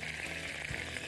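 Food fries in a pan for Egyptian trotter soup, a short, close and even sizzle with a soft clunk partway through.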